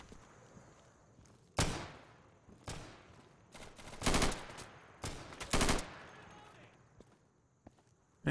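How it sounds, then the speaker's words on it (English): Gunfire rings out in the tactical shooter Insurgency: several loud, sharp bursts and single shots, some close and some further off, separated by quieter gaps with faint movement between volleys. "I hear a ton of shooting"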